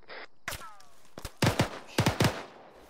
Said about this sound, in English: Were those friendly frags?